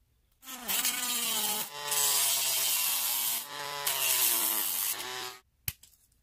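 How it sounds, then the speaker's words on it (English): A high-pitched Dremel rotary tool with a tiny cutting disc whines steadily in three long bursts of cutting, loud and close, then stops with a brief clack. "So I'm going to have to put one of these little tiny discs on the Dremel."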